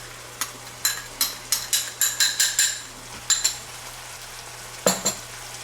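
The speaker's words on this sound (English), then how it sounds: "let's stir in our spices" Spoon stirring spices into browned ground beef in a pan, a quick series of sharp scraping strokes in bursts, with a quieter pause between them and a light sizzle underneath.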